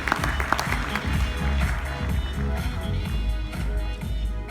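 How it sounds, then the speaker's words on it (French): An audience at an innovation awards ceremony in Mayenne claps steadily for several seconds as a guest is welcomed on stage for the public prize, with a dense patter of hands under a voice speaking over it. "Merci d'accueillir et d'applaudir Samuel Tual pour la remise du prix du public"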